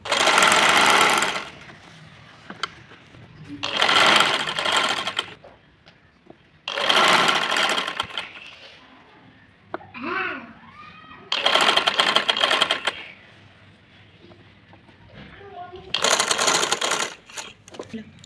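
Sewing machine stitching pleats into the lower fold of a dress lining for a fairy-style frock, running in four or five loud bursts of rapid stitching separated by brief pauses with faint handling sounds.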